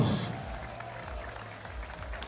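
A crowd applauds at the Adana 1954 FK football club's season opening event, a steady wash of clapping that continues throughout, with an announcer's voice heard over it.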